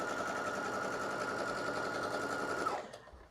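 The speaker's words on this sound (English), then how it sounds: "I'm stay stitching pattern piece number 2, which is the back" A sewing machine stay-stitches the back pattern piece of a slip dress, running in a steady close whir for nearly three seconds before it stops.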